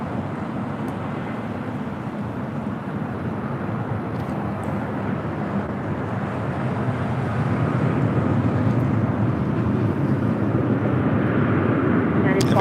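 Aeromexico Boeing 737 MAX 8 jet on arrival from Mexico City at LAX, a steady broadband engine roar that swells slightly louder toward the end, with no talk over it.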